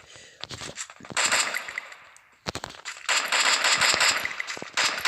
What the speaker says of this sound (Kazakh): Бізде ар жақта адамдар атысып жатыр